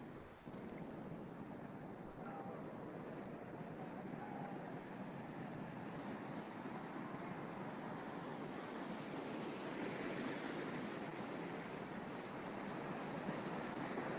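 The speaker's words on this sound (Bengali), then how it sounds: "খুব ঢেউয়ের গর্জন তোমরা শুনতেই পাচ্ছ সবাই।" Waves breaking on Puri beach in Odisha, India, a steady, distant roar of surf that swells gently toward the end, fairly faint and heard alone without talk.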